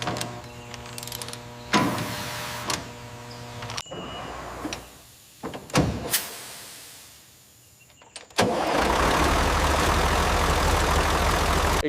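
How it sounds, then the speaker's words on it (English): A rebuilt 6x6 military truck's engine whirs and cranks in a few stuttering bursts with clicks, then catches and settles into a steady, loud idle rumble. "Ignition sequence engaged. We have engine turnover. Hydraulics check good. Solid idle established."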